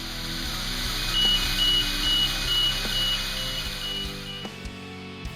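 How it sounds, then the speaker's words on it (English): The tilt alarm on a mobile elevating work platform sounds a steady string of evenly spaced electronic beeps over a constant machine hum, then cuts off before the end. "Tilt alarm."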